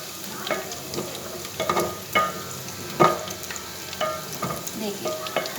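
Potatoes sauté in oil over a medium flame for aloo pulao with a steady close sizzle. Periodic scraping stir strokes from a spoon in the pan rise above it, and no one speaks.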